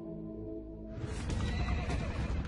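Horses neigh in a historical documentary scene, a loud drawn-out whinny rising over a low background bed and breaking into a rougher, fuller cry, close and prominent with no speech over it.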